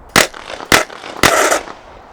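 Batmobile replica's body-mounted machine guns firing on a propane and oxygen mix: three loud, sharp blasts close by, the last one longer with a ringing tail.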